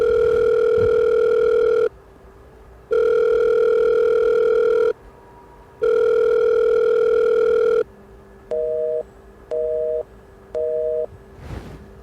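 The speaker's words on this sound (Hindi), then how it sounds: "आपने किया फ़ोन," Tones from a telephone call: three long, loud steady tones about two seconds each with gaps between, then three short beeps and a final click.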